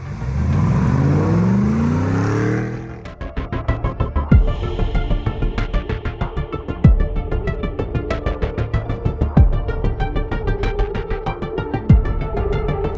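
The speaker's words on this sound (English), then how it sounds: "This D90 is powered by a GM LS3 430 horsepower V8 engine with" A Land Rover Defender 90 with a GM LS3 430-horsepower V8 and six-speed automatic revs high at first, then drops into a deep, throbbing idle with loud, close rhythmic pulsing and occasional sharp blips.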